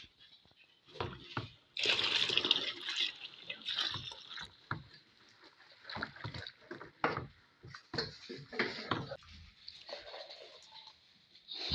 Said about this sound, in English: We're pouring it in 1 liter at a time. Okay, pour in and stir.